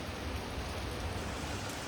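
Monsoon rain falls steadily, a soft, even hiss of drops on surfaces heard at a distance, quiet and continuous with no voices.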